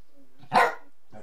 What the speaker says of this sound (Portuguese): a voz do cachorro, a voz do cachorro